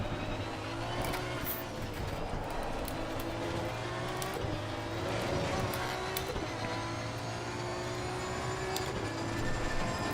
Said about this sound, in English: Because I can hear the car constantly.